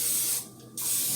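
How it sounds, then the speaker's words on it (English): Pam cooking spray hisses into a muffin container in one steady burst of about a third of a second, close and clear against quiet room tone. "So I'm going to spray my container with Pam."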